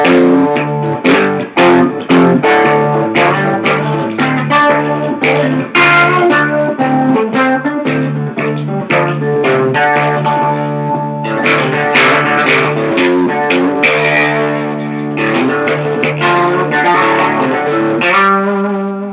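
A 1964 Supro Coronado Res-O-Glas fiberglass electric guitar with single pickups, played through a small Microcube amp, mostly clean with slight grit, strummed chords and picked notes ringing continuously.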